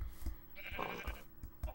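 Sheep bleating in the Minecraft video game, a single quavering bleat in the middle amid quiet in-game thumps and faint background noise.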